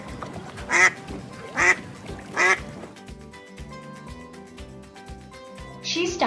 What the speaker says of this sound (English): she heard some ducks quacking.